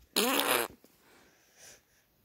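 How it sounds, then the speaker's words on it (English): A loud, buzzing fart bursts out for about half a second, then trails off into faint, soft rustles and a brief muffled puff. "Not if I fart on them."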